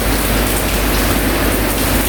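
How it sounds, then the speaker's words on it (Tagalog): Heavy rain pouring down outdoors, a loud, dense, unbroken hiss of drops hitting surfaces close by, steady throughout with no voices. "So dahil nga maulan ngayon dito."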